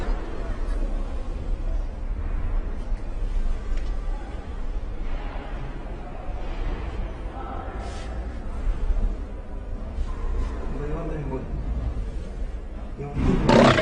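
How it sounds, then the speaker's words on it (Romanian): A tiger roaring near a lift, heard as a continuous rough, rumbling growl over several seconds, with brief louder bursts and a sharp noisy surge at the end. "că e tigru în fața lui liftului"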